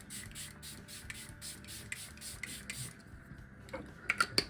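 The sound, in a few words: setting spray being sprayed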